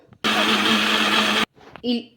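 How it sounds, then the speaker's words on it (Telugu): A mixer grinder whirs loudly for about a second, blending corn batter, stops abruptly, then brief clattering and handling noises follow. "ఇంకా మూత పెట్టేసుకొని మిక్సీ అయితే పట్టేసుకుందాం"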